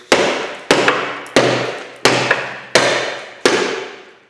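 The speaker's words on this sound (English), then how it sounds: "I think I'm just going to get a hammer and see if I can bust it out of there" A hammer strikes metal to knock loose a rusted part of a Champion forge pan during a restoration teardown: six sharp, loud blows at a steady rhythm, each ringing briefly before the next.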